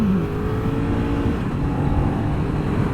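A 2020 BMW F 900 R parallel-twin motorcycle engine hums smoothly and steadily while riding, with a constant loud drone and wind noise and no talk.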